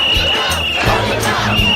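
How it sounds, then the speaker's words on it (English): A large crowd fills the streets at an anti-Wall Street demonstration in New York City, a dense, continuous roar of many voices with rhythmic low thumps, like drumming or chanting, running steadily throughout. "rallying crowds swamp the streets in the biggest anti-Wall Street demonstration"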